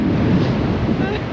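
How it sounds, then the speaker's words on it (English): Strong wind buffets the microphone on a beach, with surf rolling in underneath as a dense, continuous loud roar. "It's very windy."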